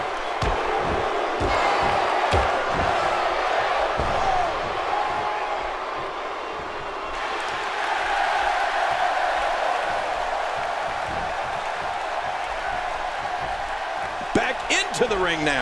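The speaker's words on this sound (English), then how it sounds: "by the sounds of it, this crowd is ready for anything that happens tonight" A wrestling arena crowd in WWE 2K17 roars steadily through the match, a dense, loud ongoing murmur with scattered impacts and brief thuds near the end.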